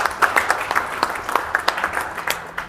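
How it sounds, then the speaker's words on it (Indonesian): Brief clapping from attendees at a senior Indonesian police leadership course ceremony, a few distinct, fairly close hand claps in an uneven rhythm rather than a full dense ovation. "tepuk tangan untuk kita semuanya"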